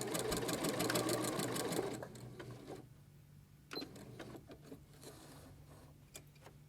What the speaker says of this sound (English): I'm just going to do a reverse stitch to secure